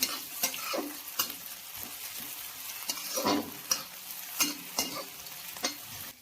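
Onion, capsicum and green chilies fry in a pan for a vegetable Manchurian gravy, a steady sizzle broken by repeated sharp scrapes and clacks of a spatula stirring, fairly close and with no talk.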